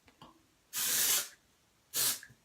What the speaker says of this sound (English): I use some of this Amika texturizing spray.